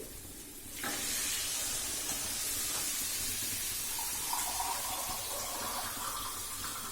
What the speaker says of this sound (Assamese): এতিয়া মই ইয়াত অলপ পানী এড কৰিম